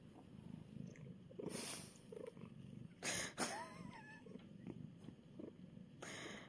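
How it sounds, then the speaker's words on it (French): A cat purrs steadily at close range while grooming itself indoors, with soft licking sounds and a few brief rustles and bumps breaking the low, continuous rumble. "il fait sa toilette, il ronronne"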